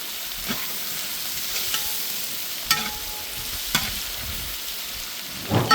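Cinnamon, cloves and cardamom frying with onions in hot oil for fish biryani, a continuous close sizzle with a few sharp stirring knocks and crackles.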